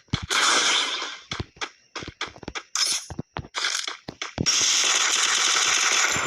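Gunfire in the video game Lone Wolf: repeated bursts of rapid shots separated by short gaps, ending in a longer sustained volley, loud and close with no speech over it.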